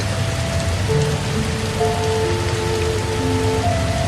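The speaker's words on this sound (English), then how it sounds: "The rain is louder now than it was an hour ago." Rain falls steadily and densely in a Costa Rican rainforest, a constant loud wash with faint thin tones layered beneath it and no break in the downpour.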